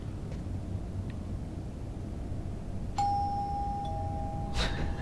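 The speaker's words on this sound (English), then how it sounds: "Ding dong." A doorbell chimes inside the video game Fahrenheit, one bright ding-dong tone sustained over a steady low hum, followed by a brief clatter near the end.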